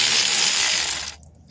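Ratchet wrench working a rusted bolt at a Massachusetts junkyard, a close, bright rapid clicking that runs steadily for about a second and then stops abruptly.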